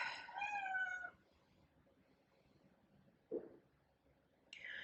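A cat with a broken leg meows indoors, one clear drawn-out meow at the start, a brief soft chirp midway and another meow beginning at the end, close by with a quiet room between calls.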